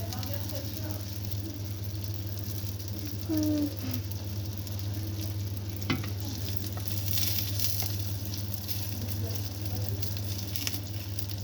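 Brik pastry frying in a pan after being flipped, a steady close sizzle over a constant low hum, with faint scattered clinks.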